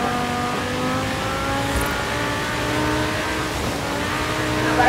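A Lamborghini Gallardo in Forza Horizon 4 sliding on a slick, snowy road, its engine holding a steady, loud drone with layered harmonic tones and faint tire hiss, rising slightly at the very end, with no talking.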